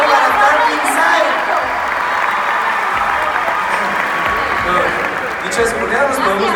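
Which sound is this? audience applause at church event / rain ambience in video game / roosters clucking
audience applause at church event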